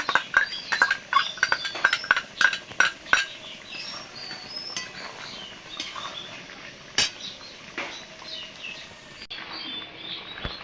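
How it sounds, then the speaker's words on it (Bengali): A spoon scrapes and clinks against a metal pot while goat-head curry is stirred after garam masala goes in, a quick series of close metallic knocks with faint birdsong in the background. "গরম মশলা দিয়ে আমি একটু নাড়িয়ে দেব"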